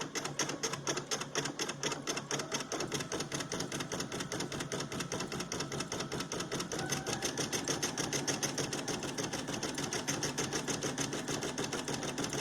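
A Brother PE800 embroidery machine stitches a blanket stitch for applique, a fast, steady mechanical needle chatter that runs close and continuous with no voices.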